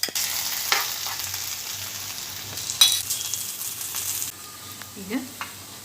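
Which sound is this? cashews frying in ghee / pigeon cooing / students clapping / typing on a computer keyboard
cashews frying in ghee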